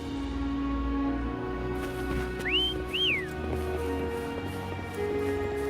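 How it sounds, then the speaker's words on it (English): Character whistling to call a companion in the video game Wuthering Waves: two short rising whistles in quick succession, clear and close, over a steady background music bed. "Try whistling."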